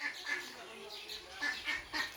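Ducks quacking in a village setting, with several repeated nasal quacks in a loose rhythm, fairly close, mixed with human voices nearby.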